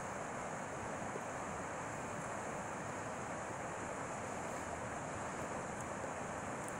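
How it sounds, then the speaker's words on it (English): Water and wind by a river on a drizzly morning form a constant, soft wash of noise with gusty rumble, faint and even throughout, with no voices. "drizzly Sunday morning down by the river."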